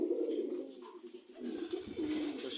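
Pigeons coo in low, soft, rolling murmurs, close by, with a steady throaty hum broken by a brief pause and then resuming alongside faint rustling.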